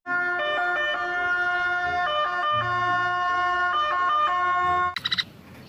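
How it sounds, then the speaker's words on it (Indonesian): A toy ambulance sounds its electronic siren, a loud, steady, looping wail alternating between pitches for about five seconds, then cutting off with a few clicks. "ada ambulans"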